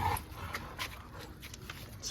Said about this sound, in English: It's a beautiful big Rottweiler.